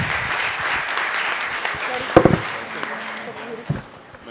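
An audience at a student wing presentation event claps in a steady wash that fades by the midpoint, followed by a few sharp knocks and scattered voices nearby.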